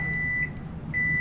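A microwave oven gives two short electronic beeps, separated by a brief pause, loud and close in a quiet kitchen.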